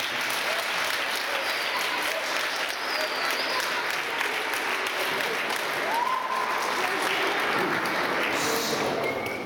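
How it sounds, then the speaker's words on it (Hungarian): Warm, sustained applause from an audience at a Christmas celebration, thanking the teachers; dense steady clapping of a crowd at moderate distance, lasting throughout with faint voices mixed in. "hogy egy tapsal nekik is köszönjük"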